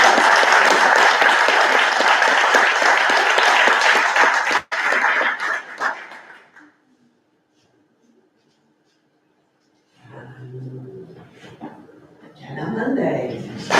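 Audience at a community governance graduation cheering and applauding for an absent award recipient, a dense loud burst of clapping and voices for about five seconds that fades out, followed by silence and then talk.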